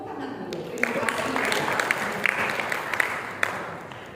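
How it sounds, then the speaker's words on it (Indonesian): Applause from an audience at a church service for forestry workers in a university hall, a steady wash of clapping lasting several seconds with a few sharper claps standing out. "kita beri tepuk tangan dulu"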